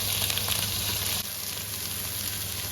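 Onions and capsicum fry in a pot, giving a steady, dense sizzle with a constant crackling hiss throughout. The sound is fairly close and continuous, with no talking over it.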